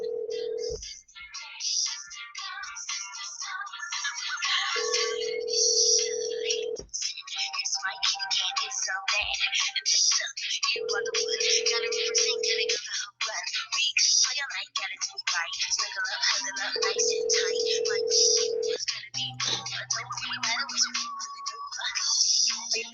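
An outgoing phone call rings back in a repeating pattern of steady tone bursts separated by pauses while it waits for an answer, heard over constant background noise and chatter.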